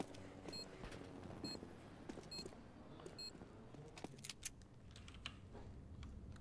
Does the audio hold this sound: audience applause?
no